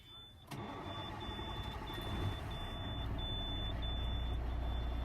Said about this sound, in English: Put the truck in neutral, and you're going to start the truck again.